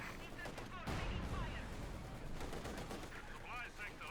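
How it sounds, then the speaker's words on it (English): Gunfire aimed at a pioneer unit in Company of Heroes 2, crackling rifle and machine-gun bursts in a busy battle mix, fairly faint overall. "Pioneer's being shot at."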